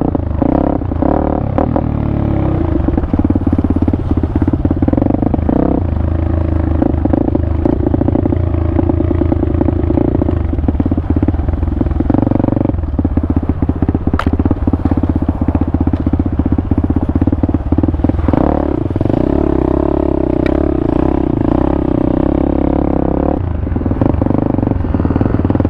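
A 2023 Pitster Pro 190fse dirt bike is ridden off-road on mountain trails, its engine droning loud and close without a break, rising and falling with the throttle amid rattling clatter.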